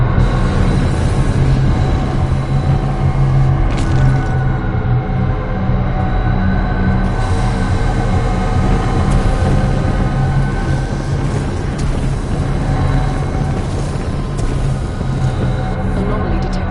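A turbine fan exhaust in the Titanfall 2 campaign winds down, with a heavy, steady low-pitched mechanical roar and brief clanks near the start, loud and continuous throughout.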